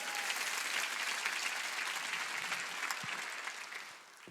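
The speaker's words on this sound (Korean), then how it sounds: "박수로 하나님께 영광을 하게" A congregation claps during a church service, a dense, steady burst of applause that holds for a few seconds and then thins out at the end.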